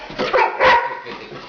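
A short, close dog vocalization, a couple of quick barky yips over about a second, loud and alone.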